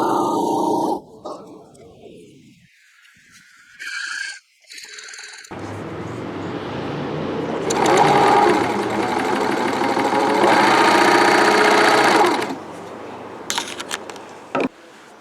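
A serger joins pocket panels along their sides in factory-style speed sewing, running in a loud, fast whirring burst after a few quieter handling noises, then cutting off sharply near the end.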